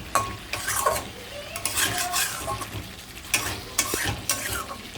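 A whole tomato dropped into a sizzling pan of prawn curry with raw pumpkin and potato, loud bursts of sizzle and spluttering alongside clattering spoon stirs against the pan, close and busy.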